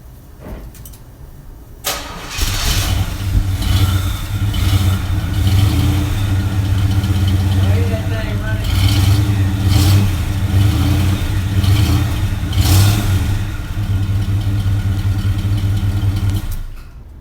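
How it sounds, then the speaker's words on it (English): A 1969 Chevrolet Impala Custom V8 cranks and fires after a quiet moment, then settles into a loud, steady rumbling idle with a few throttle blips, close up, with no talking throughout. "I'm gonna start it up real quick and let you guys hear it"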